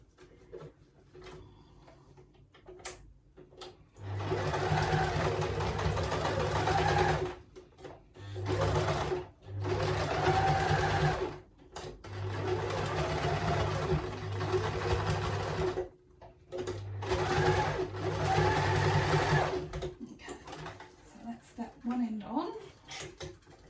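A sewing machine runs in several long, steady bursts of fast mechanical stitching on a zigzag setting, stopping and restarting between runs, with soft handling noises in the gaps and some quiet talk.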